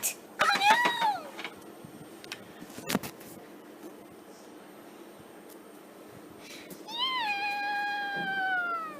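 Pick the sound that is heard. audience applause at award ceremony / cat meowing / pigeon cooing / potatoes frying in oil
cat meowing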